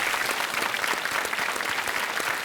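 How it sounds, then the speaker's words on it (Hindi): A studio audience on a televised quiz show applauds, a dense, steady wash of clapping hands that stays loud and even from start to finish. "तालियों के साथ इनका हम अभिनंदन करते हैं।"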